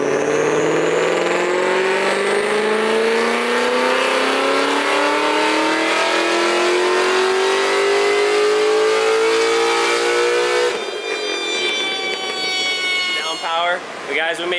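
A car fitted with Kooks headers revs hard on a dyno, its loud exhaust note climbing steadily for about ten seconds before abruptly dropping off and settling into a lower, uneven rumble.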